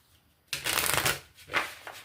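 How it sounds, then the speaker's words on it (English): Cards are riffled in two quick shuffles, a crisp close-up flutter followed by a shorter burst, with quiet between them. "Just a couple more shuffles."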